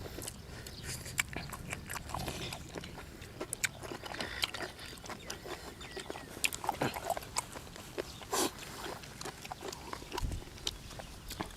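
Crunchy fresh squid tentacles are chewed close to the mouth, with a steady run of wet, crisp bites and crunches over several seconds, no talking.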